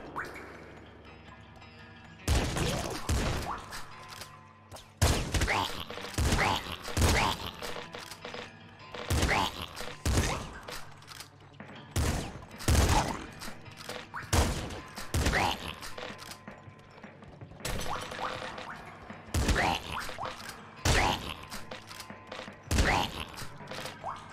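Shotgun and grenade launcher blasts in the Nuclear Throne video game, loud sharp bursts repeating every second or two with brief gaps, mixed with mechanical clicks and occasional talking.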